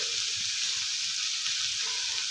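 Turmeric and vegetables fry in a pan with a steady, close hiss. Soft irregular stirring sounds run beneath it, and no voice is heard.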